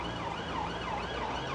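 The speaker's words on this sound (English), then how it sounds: "I can hear sirens." Wailing emergency-vehicle sirens on a Blackpool street during a protest, a rising and falling siren tone sweeping steadily over a constant road rumble, continuous and fairly loud.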